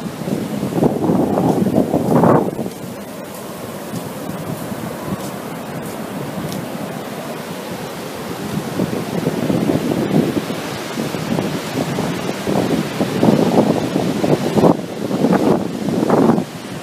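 Surf washing onto a beach near Eureka, California, with shorebirds at the water's edge, heard as broad continuous roaring wash rising in several louder surges, buffeted by wind noise on the microphone, with no talk.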